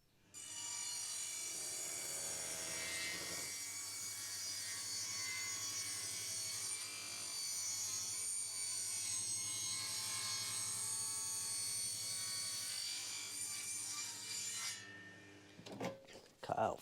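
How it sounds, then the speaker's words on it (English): A handsaw cuts a slot into a timber rafter for a bracket on a timber-framed barn, a steady rasping stroke that runs almost unbroken for about fifteen seconds, close and fairly loud, ending with a few knocks. "just going to cut this slot in this one to accommodate for that bracket"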